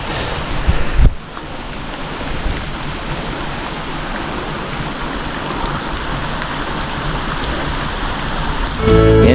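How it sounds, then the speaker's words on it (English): Rain falling outdoors, a steady, dense hiss of drops pattering on surfaces with wind buffeting the microphone, loud and continuous, a few handling bumps at the start and end. "Oh yeah, motherfucking rain."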